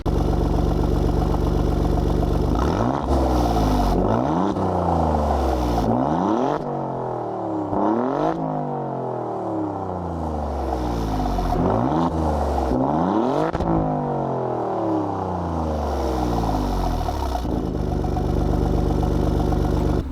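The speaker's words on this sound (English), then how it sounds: "now it's in neutral. Now you can actually rev it. It's got quite a sort of weird, like, muffled sound." Alfa Romeo Giulia QV with its stock exhaust, revved in neutral: about six loud, close blips, each rising sharply and falling back to a deep, muffled idle between them.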